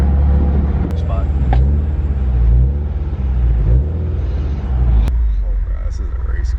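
Turbocharged Subaru STI race car with a 68mm turbo and triple-disc competition clutch, heard from inside as a loud, rough low engine drone that surges and eases, with people talking over it.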